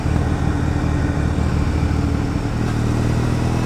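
A Triumph Bonneville motorcycle engine idles and burbles steadily up close, its exhaust note rough and uneven with irregular pops and crackles from the secondary air intake system burning off in the exhaust.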